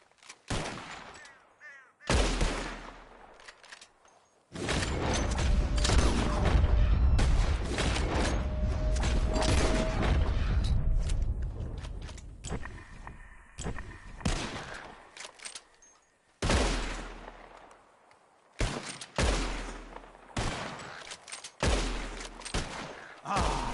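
Gunshots ring out in a Wild West GTA video game while birds are shot from the sky: scattered loud, sharp reports, then a long stretch of heavy continuous firing, followed by more separate shots.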